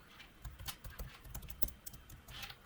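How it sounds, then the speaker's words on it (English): Quick, light clicking of computer keyboard keys as HTML tags are typed, short irregular bursts of taps, close and fairly quiet with no talking. "I'm just writing 1 or 2 tags here only. I'm not typing too many things."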